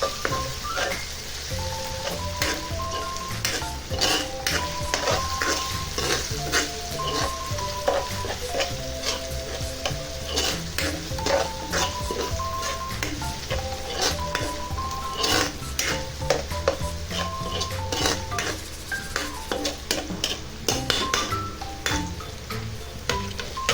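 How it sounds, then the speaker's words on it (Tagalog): Ginger sautéing in a pan for balbacua, a steady sizzle and fry running throughout with repeated stirring scrapes and clinks of a utensil against the pot, close and continuous. "Sunod natin ang luya. At igisa rin nating maigi."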